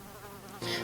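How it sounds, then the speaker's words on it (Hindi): Cartoon mosquitoes whine and buzz in a steady, insect-like drone that swells louder near the end of the short burst, with no speech. "ओहो, इन मच्छरों ने फिर से परेशान करना शुरू कर दिया।"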